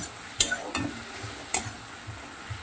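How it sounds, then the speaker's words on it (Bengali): About a spoonful of ginger paste sizzles gently in a pan while a utensil stirs and scrapes, with a few sharp clinks of metal against the rim. "আদাটা দিয়ে দিচ্ছি 1 চামচের মতো, দিয়ে এটাকে আমি মিনিটখানে কষিয়ে নেব।"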